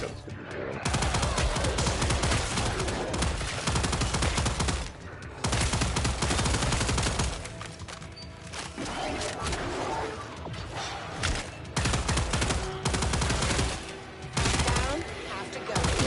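Rapid, loud bursts of automatic gunfire from a gun in the video game Killing Floor 3 hammer on almost continuously, broken by brief pauses, with mechanical clatter mixed in.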